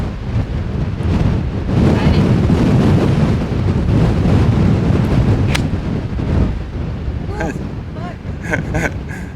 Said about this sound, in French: C'est un délire le vent, la caméra a failli tomber.